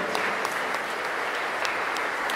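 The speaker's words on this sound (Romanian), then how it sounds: "aș vrea să invit în fața dumneavoastră aplauze" An audience at an art exhibition opening claps steadily and densely throughout, a continuous, moderately loud round of applause.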